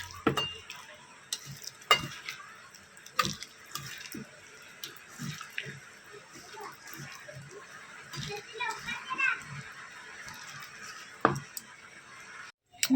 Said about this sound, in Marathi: हे असं मिक्स करायचं आहे.